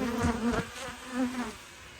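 Honey bees hum and buzz around backyard hives in spring, a steady close drone that swells and fades as individual bees pass near, with no talk.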